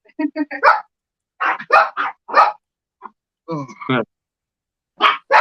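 Dogs at a fishing dock bark and yip in short, loud bursts with gaps of silence between them. No one talks over them.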